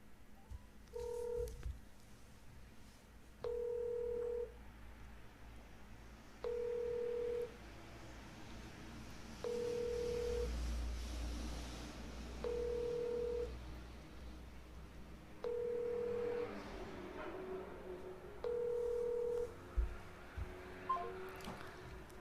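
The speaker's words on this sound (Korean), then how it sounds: "김영환 충북도지사님께 다시 한번 전화 연결을 해보도록 하겠습니다." A landline call being placed: a run of evenly spaced electronic dialing beeps, about eight short steady tones each about a second apart, heard faintly over a low background hum, with no voices.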